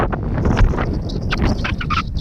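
Wind buffets the microphone outdoors on a hillside hike at a scenic viewpoint, a steady low rumble throughout with brief gusty bursts, loud and close.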